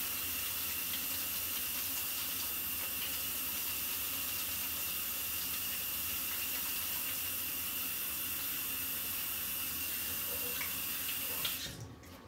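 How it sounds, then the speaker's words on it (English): Water runs hard from a kitchen sink tap as hands are washed, a steady loud hiss and splash that continues unbroken before cutting off at the end. "Don't forget to wash your hands after messing with bacon."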